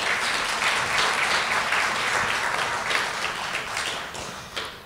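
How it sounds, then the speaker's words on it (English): An audience at a university inaugural professorial lecture applauds steadily, a dense, even wash of many hands clapping at close range that thins slightly toward the end. "another round, warmer round of applause."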